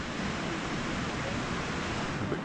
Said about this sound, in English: The waves are not as big here as on the other beach we've just come from.